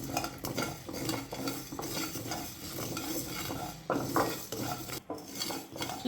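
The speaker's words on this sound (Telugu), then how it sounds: "సిమ్లో పెట్టుకుని వేయించుకోవాలి. ఇవి కొంచెం డ్రైగా వేయించుకోవాలి." Cauliflower pickle ingredients dry-frying on low heat in a pan, with repeated scraping and clinking of a spatula against the metal over a faint sizzle, close and continuous with brief pauses, no voices.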